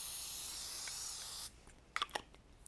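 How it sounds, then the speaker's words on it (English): Canola cooking spray is sprayed onto a pan in one steady, close hiss lasting about a second and a half, followed by a few soft clicks and taps. "And I'm going to just use my canola cooking spray"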